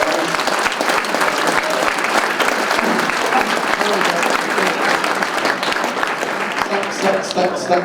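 Crowd at a Toronto Blue Jays Hot Stove event in Fort McMurray applauding the players, with dense, sustained clapping filling the room and voices murmuring underneath.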